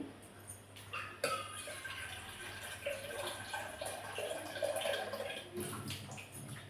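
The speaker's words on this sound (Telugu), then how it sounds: "వాటర్ యాడ్ చేస్తున్నానండి" Water is poured into a pot of pepper rasam, a steady close splashing and trickling in a kitchen with faint background noise.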